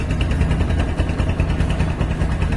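A Bajaj Discover 135 motorcycle engine idling right after a kick start, a loud, close, steady low putter with an even pulsing rhythm throughout.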